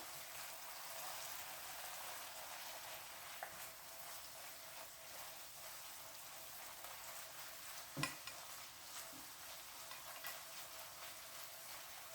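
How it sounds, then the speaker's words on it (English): Butter garlic sauce with a handful of capers is stirred in a pan, giving a faint, steady soft sizzle with quiet spoon scrapes and one brief knock near the end. "And just about 10 little capers in there. Let's give it a good stir."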